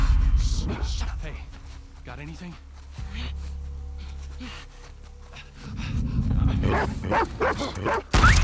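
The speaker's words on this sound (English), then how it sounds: "Lame-ass dogs." Dogs barking in The Last of Us gameplay, several sharp barks near the start and a louder burst toward the end over game ambience, with someone talking in between.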